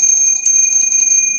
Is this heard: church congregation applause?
no